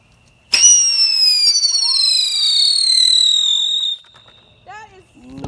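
A firework set off outdoors on an early Fourth of July lets out a loud, shrill whistle that screams steadily for several seconds and slowly drops in pitch, then cuts off, followed by faint voices.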